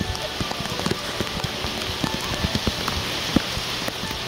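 Heavy outdoor rain during local flooding in Silang, Cavite, drumming steadily on surfaces with scattered sharp drop impacts and splashes close by, loud and continuous with no talking.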